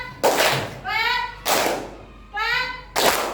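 Children in a classroom rhythm game clap in unison, three loud group claps at a steady spacing, each separated by children's voices chanting.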